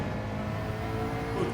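Race car engine in Gran Turismo 7, a steady loud drone with harmonic whine held at constant pitch throughout, no speech.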